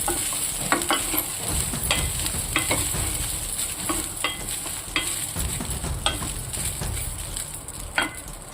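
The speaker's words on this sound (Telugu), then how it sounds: "ఎలాగో నెయ్యే కాబట్టి కొంచెం 1 minute to 2 minutes అట్లా కొంచెం ఆ నెయ్యిలోనే మనం తిప్పితే చాలా బాగుంటుంది." Soaked poha stirred in hot ghee in a pan, a steady close sizzle with repeated scraping strokes of the spoon throughout, no voices.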